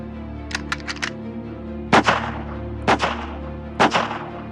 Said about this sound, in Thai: แกหักลำกล้องลูกซองเดียวอย่างรวดเร็ว แล้วก็ยิงจนครบสามนัด